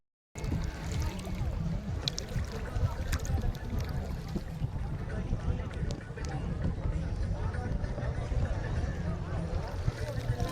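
A coracle is paddled and spun on the water at Munroe Island in Kerala, giving a steady, close wash of splashing and water noise under people talking.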